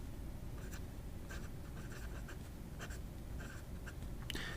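A Delta fountain pen filled with Yamabudo ink scratches steadily across paper, giving soft, continuous nib strokes with brief lifts between words, quiet and close against faint room hiss.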